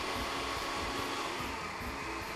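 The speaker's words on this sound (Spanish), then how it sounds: "vamos a licuar estos ingredientes" Electric blender whirring as it mixes lemon juice and egg yolks into an emulsion in a kitchen: a steady, loud, unbroken motor whine with no voices.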